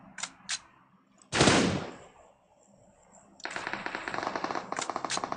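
PUBG Mobile gunfire: a couple of quick shots, then a loud burst, and later a sustained rapid automatic rattle of steady repeated shots, close and loud with little else around.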